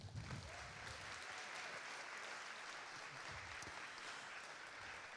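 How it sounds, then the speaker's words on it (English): Sustained applause from an audience at a community awards ceremony, a dense steady patter of clapping that holds evenly from start to end, moderately distant and without talking over it. "So how about one final round of applause for all of them?"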